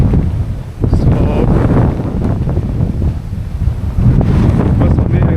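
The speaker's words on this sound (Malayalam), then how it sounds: "ഇന്നത്തെ ഒരു വെതർ മാറി" Strong wind buffets the microphone during an outdoor bike ride through Nottingham, giving a loud, rumbling, gusty roar that swells and dips without a break.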